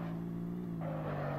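A car engine in the zombie-driving game Earn to Die 2 with new engines fitted, a steady droning hum that shifts pitch upward near the end, brief and without speech.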